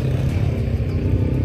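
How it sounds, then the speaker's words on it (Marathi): A quad bike engine idles and churns in the desert on a Dubai desert safari, a steady low rumbling drone, close and continuous, with no voices over it. "सो मंडळी इथे आपण आता क्वाड बाईक चालवली."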